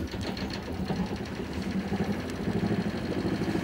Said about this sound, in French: une fois que le moteur est en route, premier réflexe, voir si l'eau crache bien